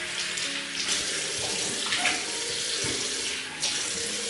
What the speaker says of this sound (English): I'll just rinse off the brush and give you a peek at the brush there. Just rinse it out a bit.